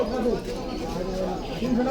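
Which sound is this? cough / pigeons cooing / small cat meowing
pigeons cooing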